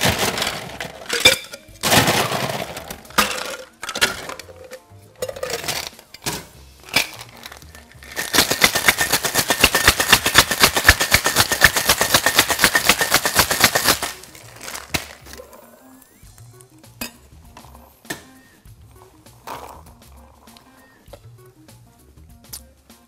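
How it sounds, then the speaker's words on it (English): A mango cocktail is shaken hard with plenty of ice in a cocktail shaker, a dense, rapid rattling of ice lasting several seconds, with scattered clinks and handling sounds before and after. "Shake it all together with loads of ice."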